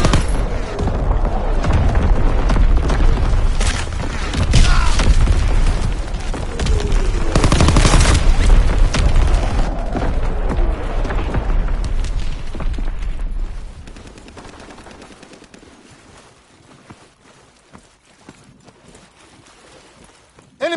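Heavy rolling bursts of fire and booms from an artillery battery in a PS4 war game fill the first thirteen seconds loudly, then fall away to a quiet, sparse tail.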